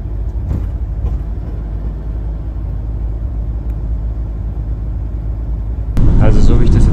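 A minibus drives a mainland road heading south from Krabi, Thailand, giving a steady low engine rumble throughout, with people talking louder over it near the end.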